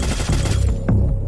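Rapid automatic gunfire in a first-person shooter game, a dense close burst of repeated shots with a few sharper reports toward the end, no talk over it.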